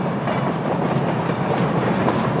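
A freight train of crude oil tank cars rolls steadily downgrade and gathers speed, a dense continuous rumble and rattle of wheels on rails, loud and close with no voices.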